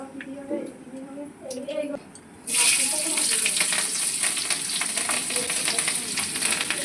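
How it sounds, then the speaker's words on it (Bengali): Black cumin seeds hit hot oil in a wok, and a sudden loud sizzle bursts up and keeps crackling. Quieter kitchen noise and talk come before it. "এবার কড়াইয়ে তেল দিয়ে তাতে কালো জিরেগুলো দিয়ে"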